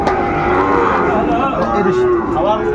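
Sahiwal bulls at a Noakhali cattle market moo loudly and close by, with long, drawn-out lowing calls that run continuously and overlap across the whole stretch.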